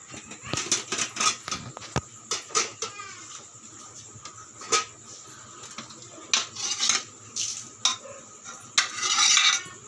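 Tamarind and fish curry stirred in a pot, with a metal spoon scraping and clanking against the vessel in irregular close bursts, plus light clinks of cookware between strokes.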